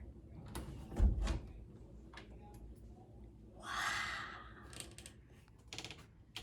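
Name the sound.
pantry door being opened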